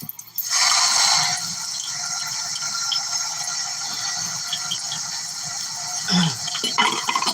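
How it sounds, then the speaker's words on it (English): Hot water rushes from a kitchen tap in a steady, close hiss for about six seconds, then cuts off, leaving brief clatter; no one speaks. "in the background, you're going to hear the water run"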